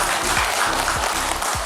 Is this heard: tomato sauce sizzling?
no